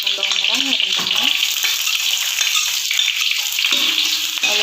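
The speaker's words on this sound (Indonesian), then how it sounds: "ini minyak gorengnya udah panas. Tinggal kita masukkan bawang putih, lalu kita tumis-tumis seperti ini ya." Garlic and shallots sizzle and crackle in hot cooking oil as they are stir-fried for a spicy chicken intestine dish, a loud, dense, continuous frying hiss close up with a few scraping stirs.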